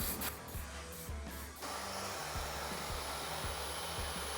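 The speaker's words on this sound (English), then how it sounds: "settings to cold air to really lock in the hairstyle that I'm looking for" A hair dryer on its cold air setting at a barbershop, starting with a few brief sputters, then a loud continuous whooshing roar that holds steady, no speech.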